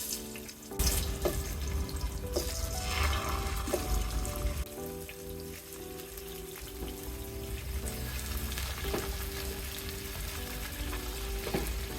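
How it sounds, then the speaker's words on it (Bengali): Pieces of snakehead fish frying in oil in a pan give off a steady, close sizzle with occasional clinks and shifts, continuing evenly without any talk. "এবার আমি মাছের টুকরোগুলোকে ভেজে নেবো"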